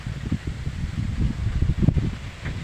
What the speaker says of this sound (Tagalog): napakalakas yung hangin